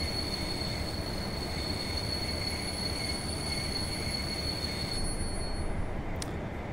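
A simulated train in Train Sim World 2022 pulls forward with a continuous low rumble of rolling stock and a faint high whine, steady and fairly loud, ending with a brief bright clank.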